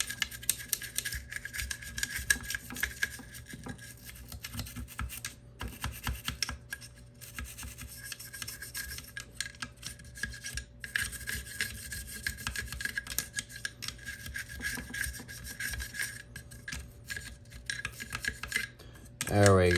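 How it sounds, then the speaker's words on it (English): A brush scrubs inside the upper and barrel of an AR-15 rifle, giving continuous close scratchy rubbing and faint metallic scraping in a quick irregular rhythm, with occasional small clinks and no speech. "take your brush or wire, whatever you use, to scrub, and just scrub the inside as best as possible"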